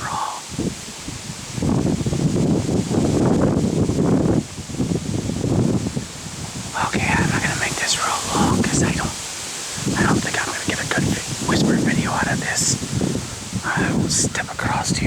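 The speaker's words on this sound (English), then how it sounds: "I'm sorry about this wind." Wind buffets a microphone outdoors while walking through town streets, coming in loud, rumbling gusts that swell and drop repeatedly across the clip, with brief quieter lulls between bursts.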